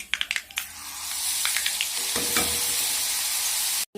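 A curry leaf and asafoetida mixture hits hot oil for mango pickle, popping in a quick burst of crackles that swells into a loud, continuous sizzle before cutting off abruptly.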